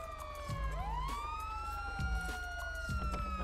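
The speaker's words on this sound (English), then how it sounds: "Let me turn on my siren." A Lexus police car siren in a GTA 5 patrol mod, patrolling Blaine County, wails with a rising sweep, steady and fairly near, along with soft in-game thumps and no speech.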